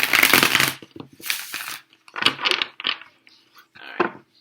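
Tarot cards handled and shuffled before a reading, giving a run of close, crisp papery slaps and riffles in bursts with short gaps between them.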